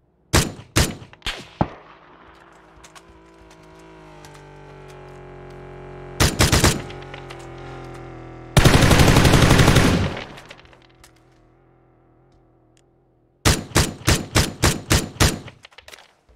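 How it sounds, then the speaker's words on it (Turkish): Rapid bursts of automatic gunfire in PUBG on the Erangel map: a quick volley of shots, a short burst, a long sustained spray, then another fast string of evenly spaced shots, loud and close with quiet gaps between. "Çok seri sıktım ya."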